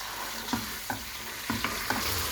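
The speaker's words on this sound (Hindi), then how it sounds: "अब हम इसमें डालेंगे अपना चिकन जो मैंने आपको बताया था, इसको हम लाइट सा फ्राई कर लेंगे।" Chicken lightly frying for hakka noodles, a constant close hiss of sizzling oil broken by four or five dull spatula knocks and scrapes against the pan.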